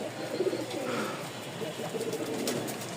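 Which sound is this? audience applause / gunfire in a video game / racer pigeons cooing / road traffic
racer pigeons cooing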